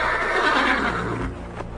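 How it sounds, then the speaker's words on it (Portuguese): A horse gives a loud, close whinny that rises and then trails off, with nothing else around it. "um cavalo preto"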